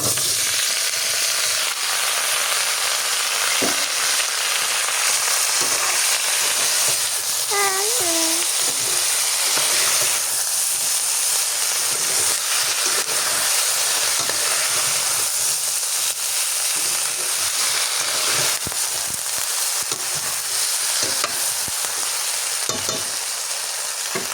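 Eggplant fries in a pan with a paste of onion, chili and garlic, giving a loud, constant sizzle with stirring scrapes and occasional sharp pops. A faint animal call sounds briefly partway through.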